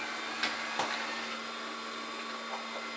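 Ecovacs T90 Pro Omni robot vacuum running with a steady mid-level motor hum and brush whir, broken by a few faint soft bumps or clicks, close by with no talking.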